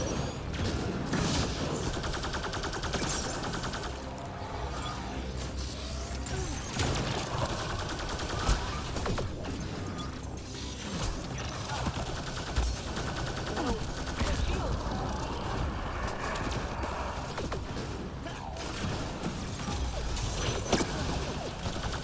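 Enemy gunfire in the Mass Effect Andromeda multiplayer mode crackles in a steady, dense barrage with scattered louder shots. Game effects and occasional chatter sit underneath the firing, which runs throughout at moderate distance.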